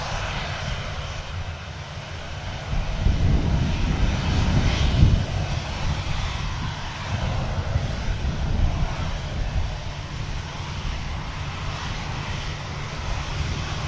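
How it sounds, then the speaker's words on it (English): A Vueling airliner takes off behind a Ryanair jet at a busy airport, its engines a broad steady roar that swells slightly mid-clip over wind noise, fairly distant and continuous with no talk. "Vueling is going to be taking off behind this Ryanair"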